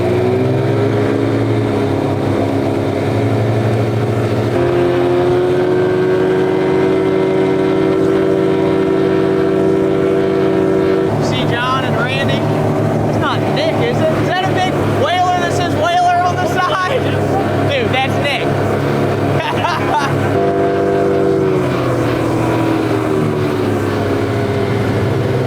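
Twin outboard engines on a tiny boat run steadily and loudly throughout, a continuous droning hum that shifts pitch a few times as the throttle changes, with people talking over it.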